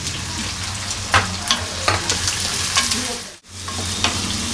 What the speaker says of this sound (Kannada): ನೆಕ್ಸ್ಟ್ ಈರುಳ್ಳಿ ಮತ್ತೆ ಹಸಿಮೆಣಸಿನಕಾಯಿ ಎರಡು ಒಟ್ಟಿಗೆ. ಸ್ವಲ್ಪ ಫ್ರೈ ಆಗಿದೆ.